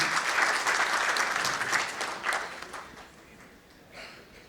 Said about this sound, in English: huge round of applause for both of them